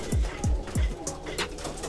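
A pigeon coos in three deep, rhythmic notes close by, followed by softer background chatter and faint rustling.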